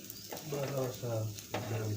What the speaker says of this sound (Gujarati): આલુ પરોઠા ચાલુ છે તળવાનું બનાવવાનું ચાલુ કામ છે